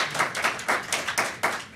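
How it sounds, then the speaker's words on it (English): Scattered hand clapping from a small group at a public hearing, with loose, uneven claps lasting a couple of seconds. "You can clap for that."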